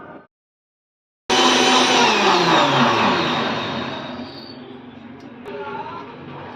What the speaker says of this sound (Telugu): ఇప్పుడు దీన్ని మిక్సీ పట్టుకుందాం.